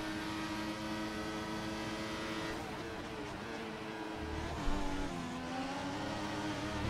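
Ferrari race car on a race circuit, its engine note sustained and loud as it accelerates and shifts, with a steady roar and pitch changes throughout and no talk.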